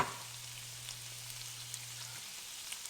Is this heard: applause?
no